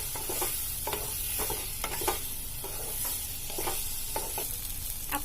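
Soy sauce and tomato sauce get stirred together in a sizzling pan, a spoon scraping in a repeated rhythm of short clinks and strokes over a constant frying hiss, with no talking.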